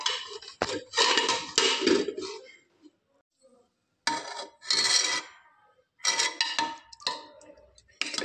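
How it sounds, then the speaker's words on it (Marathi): Jaggery being grated in a kitchen, bursts of rough rasping scrapes in several separate runs with short silent gaps between, close and fairly loud, no talking. "गुळ किसून घेते डाळीला चटका द्यायसाठी"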